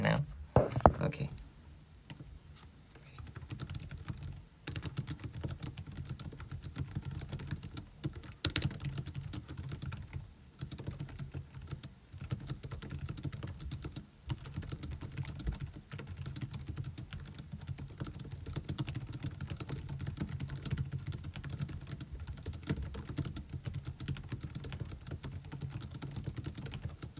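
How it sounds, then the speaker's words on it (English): Steady computer-keyboard typing during a typing-speed test, with continuous rapid key clicks running close and fairly loud throughout, after a brief pause near the start. "Let's see how fast I can type"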